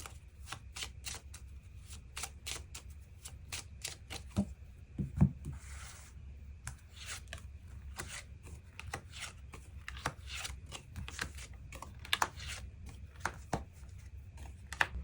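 Tarot cards are shuffled and drawn in a series of close, crisp riffling and slapping bursts that come in irregular rhythm and stay fairly quiet, with no talking.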